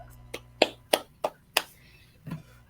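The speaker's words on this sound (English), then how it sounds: "Let's give him a round of applause for that." A handful of sharp, scattered hand claps, about six in under three seconds, ring out close and fairly faint in an otherwise quiet room, a small round of applause.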